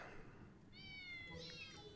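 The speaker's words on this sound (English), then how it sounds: "And there's 3 kittens playing with him" Kittens in a Final Fantasy XIV cutscene let out a couple of short, high meows over a quiet background, close and clear, with faint voices underneath.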